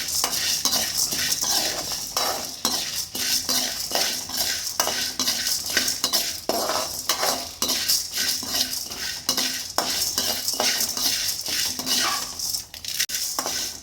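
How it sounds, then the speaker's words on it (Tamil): Idli podi ingredients, including dried red chilies, dry-roast in a pan while a metal spoon stirs continuously, giving a dense, busy stream of scraping and clinking, close and fairly loud with a light sizzle underneath. "இன்னும் கொஞ்சம் நேரம் வறுக்கணுங்க"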